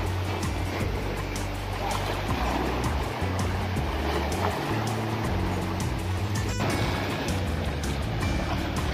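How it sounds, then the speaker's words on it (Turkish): Southwest wind-driven waves hit the shore at night by a fishing spot in Kartal, Istanbul, making a dense, steady roar of surf and rushing water that fills the scene without pause. "lodosun dalgaları kıyıya doğru vuruyor"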